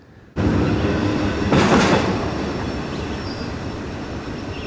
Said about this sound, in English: Even though this train was in fact going up grade, as you can see it's going very slow